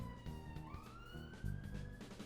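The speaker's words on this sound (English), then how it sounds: "We have sirens coming, guys. It's going to get louder. Here it comes." A police-style emergency siren wails in a Cities Skylines North America city-building game, its rising and falling tone sweeping steadily through the clip, moderately loud and alone with faint background rumble.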